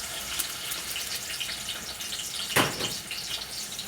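Onion sizzling in hot oil for jambalaya soup, a steady broadband hiss throughout with a brief louder crackling burst near the end, close and alone with no talking.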